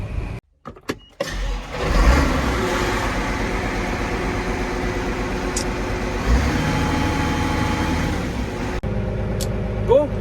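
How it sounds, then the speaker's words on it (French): A John Deere 6R250 tractor engine turns over and catches, then runs steadily with a rough, rumbling idle; a brief whine and faint voices come through near the end. "Bon signe, le tracteur redémarre."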